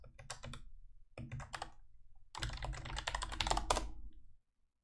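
Computer keyboard keys are typed on in short bursts, two brief clusters of clicks followed by a longer, denser run of tapping, close and clear with no talk.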